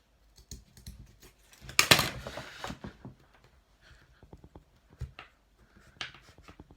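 Scissors snip through carpet being fitted in a DIY VW T5 camper conversion: one loud cutting burst near the middle, set among quieter scattered handling clicks and rustles.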